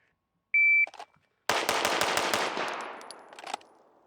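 A Ruger Mk IV 22/45 fires a fast string of pistol shots on a range, each sharp crack close and loud in rapid rhythm with echoes trailing off, preceded by a short electronic beep from a shot timer.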